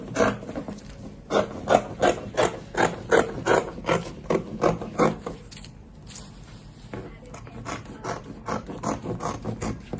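Fabric for an off-shoulder cape is cut with scissors in a rapid series of crisp snips, a steady run of sharp cuts with a brief pause midway, close and fairly quiet.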